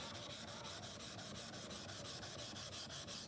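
A Japanese kanna plane blade rubbed back and forth on a sharpening stone in quick, even strokes, about five per second, a soft gritty scraping that stays close and steady throughout with no voices.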